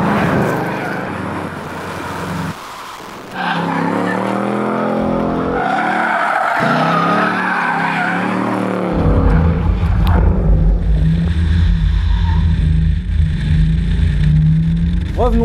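A Ford Mustang Bullitt spins and slides on a wet road: loud, sustained tire squeal and skidding over a roaring, revving V8 engine, with a deeper throttle surge midway and no talking.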